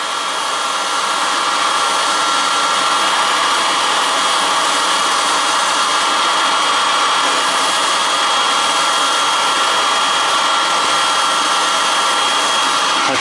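A heat gun blows steadily while heating a CPU to loosen its pins for gold recovery, a loud continuous hot-air roar that holds unbroken throughout with no talk.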